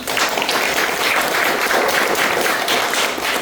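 An audience at an Indonesian parenting seminar applauds, a steady full wash of many clapping hands at moderate loudness throughout.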